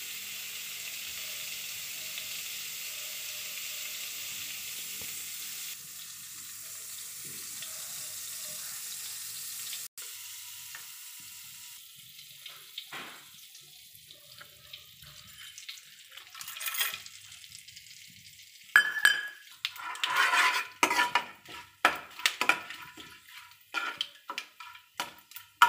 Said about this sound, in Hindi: ये बटर मैंने कढ़ाई में डाल दिया है